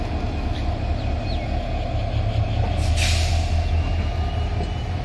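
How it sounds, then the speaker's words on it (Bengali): Sonar Bangla Express, running from Chattogram to Dhaka with new Korean coaches, rumbles out of the station with a steady low rolling drone, squealing wheels and a brief burst of air-brake hiss midway. "সোনার বাংলা এক্সপ্রেস আজকে একদম কাটায় কাটায় টাইমের চেয়ে ছাড়তে পারলেও অনেকটা বিলম্ব নিয়ে 4:48 চট্টগ্রাম থেকে ঢাকার উদ্দেশ্যে ছেড়ে যাচ্ছে।"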